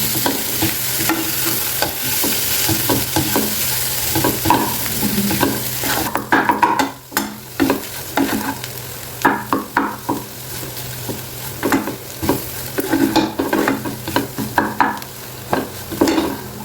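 Aloo samosa potato filling with garam masala is stirred in a sizzling pan, a continuous frying hiss giving way to repeated scraping, clattering spoon strokes in an uneven rhythm, close and fairly loud.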